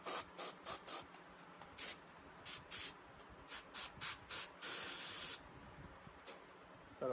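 Short hissing spray bursts of greaseless lubricant from an aerosol can, close by, with a dozen quick puffs and one longer sustained spray, worked into parts of a 1958 Goliath 1100.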